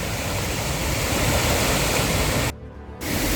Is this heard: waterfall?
yes